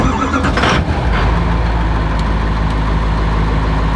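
An old hearse's engine turns over and runs loud and close, a rough throaty idle with a brief rise near the start, then a steady rumbling drone with no voices.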